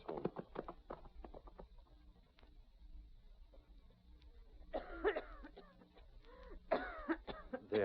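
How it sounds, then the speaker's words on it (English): A child coughs repeatedly in fits, harsh throaty coughs near and clear, with quieter pauses between bursts, in an old radio drama. "Try to stop coughing."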